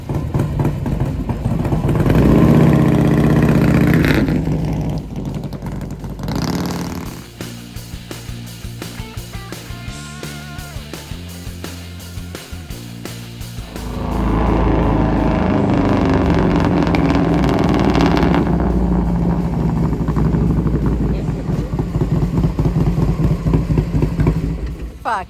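Harley-Davidson Softail V-twin motorcycles rumble loudly and steadily, with a quieter idling stretch in the middle before the engine roars back up; faint voices may sit underneath.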